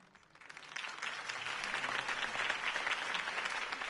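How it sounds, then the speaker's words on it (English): Applause swells from quiet to a steady, sustained clapping from a sizable crowd, moderately distant and continuing to the end. "could have heard that applause"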